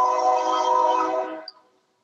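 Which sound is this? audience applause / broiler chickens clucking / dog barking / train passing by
train passing by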